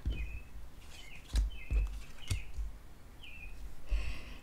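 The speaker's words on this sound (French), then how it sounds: "On dirait que les oiseaux ont quelque chose à dire." Several short bird chirps sound outdoors, a few brief calls spaced irregularly over low background rumble and some thumps.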